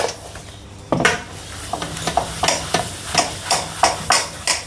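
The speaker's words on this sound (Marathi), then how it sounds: "हाताने फेटूया चांगलं।" Eggless nankhatai dough mixture beaten by hand in a bowl, a rhythmic series of close, scraping strokes that start after a second of quiet and repeat quickly and steadily, with no voices.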